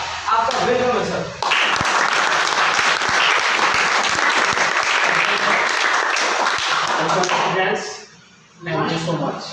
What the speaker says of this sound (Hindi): सर का वेलकम करना चाहते हैं अभी तक की सबसे जोरदार तालियों के साथ